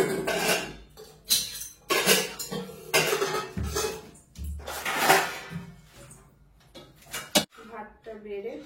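Pots, steel dishes and spoons clink and clatter in a home kitchen as rice, dal and fried food are served to a child, with irregular close knocks and scrapes and a voice speaking in between.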